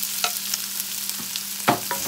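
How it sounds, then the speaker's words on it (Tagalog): Onions being sautéed in a frying pan ahead of the garlic, with light sizzling and a few spatula scrapes and knocks in a brief close stretch. "Unahin ang sibuyas. Igisa"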